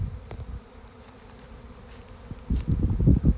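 A swarm of bees buzzes around a box, a soft, droning hum that swells louder and busier toward the end.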